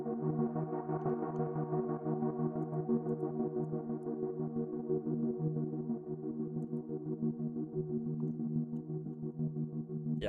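Sustained synth chords with a slowly sweeping automated filter, playing steadily as the background of an electronic music intro, with no voices.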